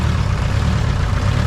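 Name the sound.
K20 turbo Civic engine running to pump out fuel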